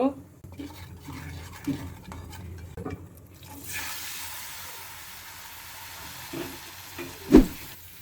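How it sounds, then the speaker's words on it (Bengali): An egg fries in hot oil with turmeric and salt; after a few soft pan knocks and shuffles, a steady sizzle rises midway and continues, closing with a sharp utensil clunk. "এখন আমি ডিমটা হলুদ লবণ দিয়ে একটু ভেজে নেব।"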